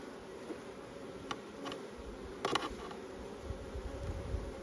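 Bees buzzing around a hive, a soft continuous drone near the microphone with a few brief louder passes and light knocks, no talking.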